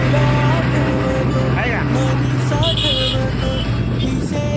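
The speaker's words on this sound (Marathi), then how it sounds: "इकडे एक बस आहे पण माग" Bus and road traffic in a jam near Saswad on the way to Jejuri, a steady close engine rumble with a brief horn-like tone and passing vehicles, and someone talking over it.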